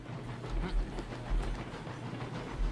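A steam locomotive runs in the game RailRoads Online, giving a quiet, rumbling rolling sound with periodic low chuffs and a faint hiss, steady and somewhat distant.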